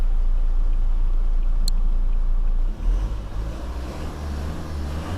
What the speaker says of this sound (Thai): ลองฟังเสียงเครื่องยนต์หน่อย